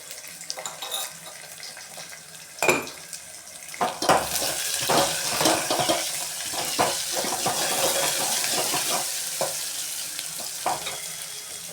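Sliced onions sauté with salt in a pan for Tamil kara kulambu, giving a close, steady sizzle broken by scraping stirs and clatter from the spoon.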